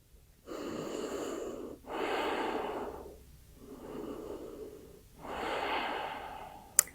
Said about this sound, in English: Just take rest for 2, 3 deep breaths here.